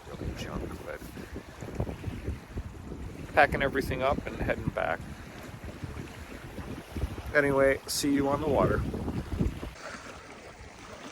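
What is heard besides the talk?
stiff breeze blowing on a lakeshore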